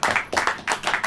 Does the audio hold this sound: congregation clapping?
yes